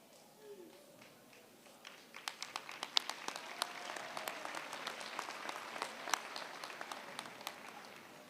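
Audience applauding graduates at a university graduation ceremony, many hands clapping that swell from sparse claps into a steady round, fairly quiet and distant.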